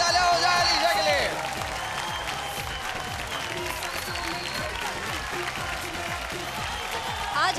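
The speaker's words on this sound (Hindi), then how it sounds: "जोरदार तालियां हो जाए" Applause and cheering from a television dance competition audience for the winning dancer roll on under loud stage music with a pulsing beat, the crowd noise blending into the music throughout.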